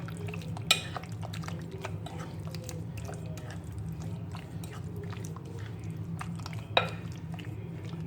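Chicken 65 pieces being stirred and mixed into a marinade in a bowl, with soft wet squelching, scraping and utensil clicks, two sharper clinks standing out, over a steady low background hum.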